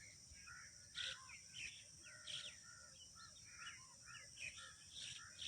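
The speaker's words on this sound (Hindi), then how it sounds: "परिंदे चहचहा रहे हैं" Birds chirp outdoors in a steady scatter of high, bright calls, some nearer and louder than others, over a faint constant hiss of insects or background noise.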